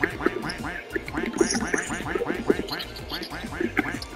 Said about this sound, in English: I got a rubber duck. All we do is just quack.